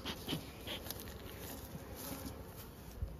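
Bees buzz faintly around a backyard beehive outdoors, a soft, continuous drone with no voices.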